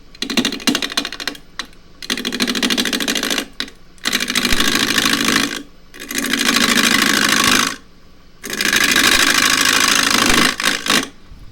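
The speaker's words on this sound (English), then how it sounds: "So my usual roughing down tool is the 1/2 inch spindle gouge." A half-inch spindle gouge roughs down a spalted wood blank on a lathe, cutting in several loud, close bursts of dense chattering separated by short pauses.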